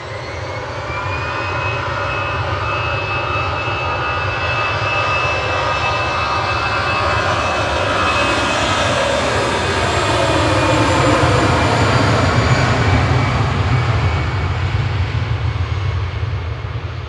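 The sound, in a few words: EasyJet jet plane departing Manchester Airport to Naples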